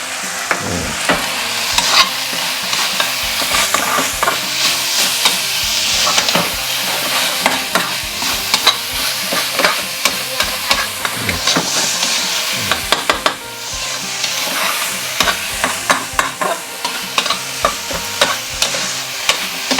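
Kidney is stir-fried in a pan with Chinese cabbage, celery and spring onion, giving a continuous loud sizzle broken by frequent scraping, clacking strokes of the spatula.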